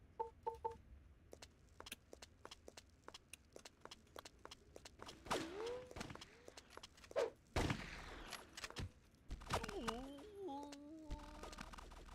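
A machine gun sprays rapid gunfire in the Mortyr first-person shooter game, sharp shots in uneven bursts over footsteps and a few mechanical clicks as ammunition runs out.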